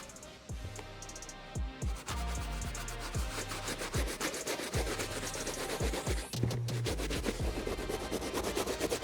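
A soft bristle brush scrubs a mesh shoe in quick repeated back-and-forth strokes, a close, rhythmic scratchy rubbing with no voices.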